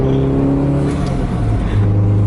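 Toyota MR2 engine accelerating, a steady loud engine tone with rising pitch through the gear, close and continuous with no talking.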